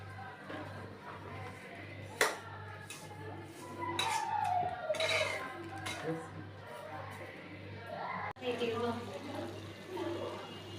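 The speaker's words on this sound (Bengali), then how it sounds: "তো আমি পানি দিয়ে দিলাম" Water is poured into a pan of vermicelli fried with sugar, making a brief splash and bubbling gush close by. Someone talks quietly around the pour, and metal pan clatter sounds in between.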